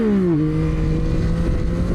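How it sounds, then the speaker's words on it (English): A Yamaha MT motorcycle revving hard during a wheelie, a loud close engine note that dips briefly and then holds a steady high drone. "So we're gonna do one more wheelie, hopefully hit balance point"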